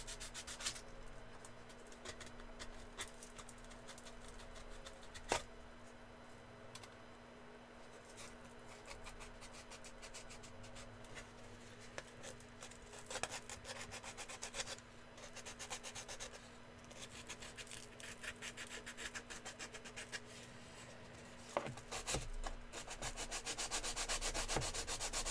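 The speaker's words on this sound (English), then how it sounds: "I'm getting tired of this sanding." Sanding by hand during a model build, a long run of soft, close rubbing strokes with irregular scratchy bursts, steady and quiet, with no talk over it.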